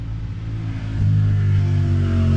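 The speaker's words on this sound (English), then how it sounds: "Not only does this person have the titanium catback exhaust" A Toyota GR86 10th Anniversary Special Edition fitted with a Tomei titanium catback exhaust idles, then revs up into a louder, steady low exhaust drone about a second in, heard close and alone.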